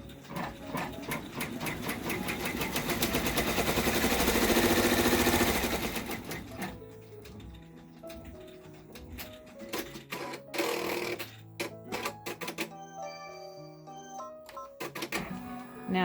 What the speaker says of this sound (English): let that top stitch stitch out